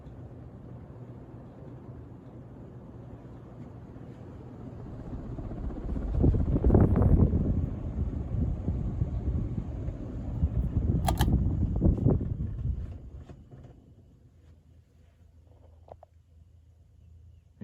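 A Casablanca Low Ceiling Series ceiling fan, the Slumber Five, runs with a low, steady whoosh and hum that swells for a stretch as it spins, then drops back to a faint drone.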